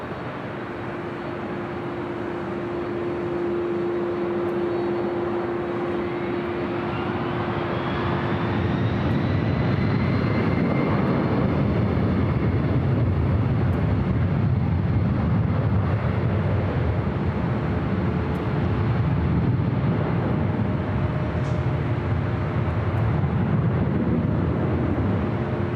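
A Delta airliner takes off from runway 24 left at LAX, its broad jet roar rising steadily and then holding loud and sustained, with a thin whining tone early on that fades as the engines spool up.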